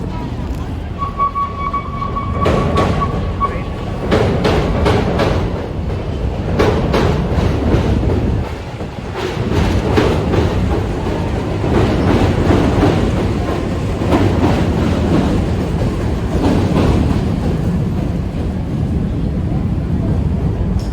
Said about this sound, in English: nothing says Chicago like an L train passing